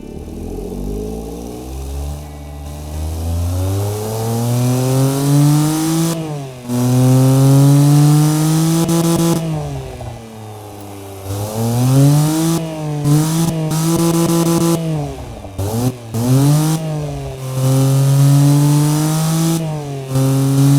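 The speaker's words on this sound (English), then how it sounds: "So let's fire it up." An inline three-cylinder car engine starts and idles with a throaty, slightly uneven note, then revs up and down repeatedly, loud and close.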